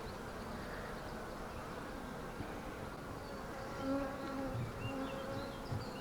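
Steady, dense buzzing of many honey bees close by around a hive, a continuous drone with individual insects whining past now and then.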